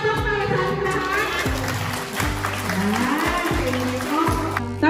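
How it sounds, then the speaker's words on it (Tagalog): Schoolchildren at an elementary school outreach event in Batangas City clap together in a loud burst of applause with rhythmic thumps over crowd noise, while a speaker talks. "Isa ka po palakpak para sa ating lahat."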